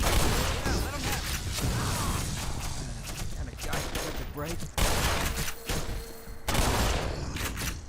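Shotgun blasts from the Black Mesa video game ring out in loud, repeated bursts, layered over dense in-game combat noise with brief dips between volleys.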